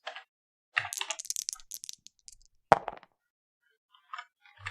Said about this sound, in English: I'm going to roll 10 dice.